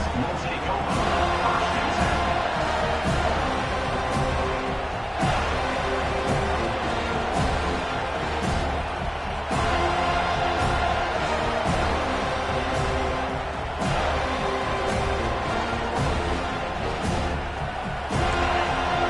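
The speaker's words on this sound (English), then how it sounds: "This crowd bringing an ear-splitting welcome to their visitors." A dense, loud stadium crowd roars continuously at a college football game, a thick wall of cheering and noise throughout with a voice talking over it.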